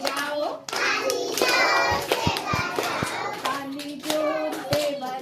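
Children's hands clap in time while young voices sing a rhythmic chant, the claps scattered and partly buried under the singing, fairly close and lively.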